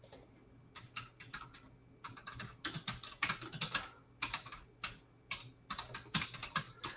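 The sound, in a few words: typing on a computer keyboard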